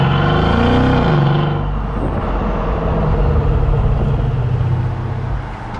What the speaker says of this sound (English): A very deep V8 sound